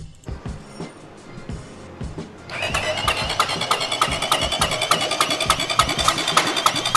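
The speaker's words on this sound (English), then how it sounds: "when we do the compression test, the engine is turning over a little bit" A CSC RX3 motorcycle engine turns over during a compression test, rapid mechanical churning rising in loudness after a quieter stretch of clicks and taps, steady and close for the remainder.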